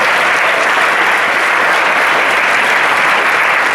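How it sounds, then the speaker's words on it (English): Audience applause at a Spring Hill High School Band pops concert, a dense, steady clapping that fills the whole stretch at full loudness with no talk over it. "Big round of applause for them."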